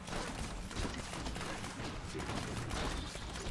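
Dense, rapid gunfire crackles without pause in the video game Grim Dawn, a loud continuous burst of shots filling the whole stretch.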